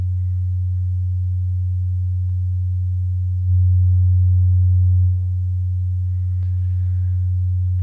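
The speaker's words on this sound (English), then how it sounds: "put the 91 hertz on" A steady 91 hertz sine tone played during a yoga and breathwork sound bath, a continuous low hum that swells louder for a moment midway, then settles back, with no talking.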